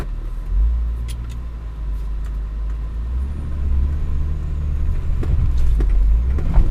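Stock BMW X5 SUV crawling up a steep off-road wall, a deep, low engine drone with rumbling strain that grows slightly louder as it climbs, close and continuous, with faint crunching and scraping from the terrain.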